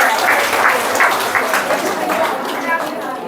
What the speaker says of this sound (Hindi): चलो भाई ताली बजाओ